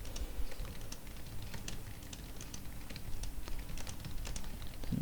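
Steady typing on a computer keyboard while writing a document in Microsoft Word, a continuous patter of quick, close key clicks with no talk over it.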